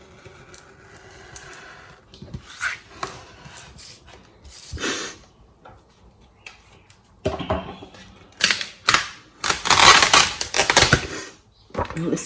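Excess rose gold HTV foil is trimmed off an organic cotton tote bag, giving close, crisp cutting snips and crinkly rustling in uneven bursts, loudest toward the end, with faint handling noise between them.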